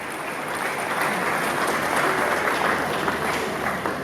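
A hall audience at a Kinshasa sound festival breaks into full, steady applause, dense and fairly close, continuing evenly for the whole stretch with a murmur of voices beneath.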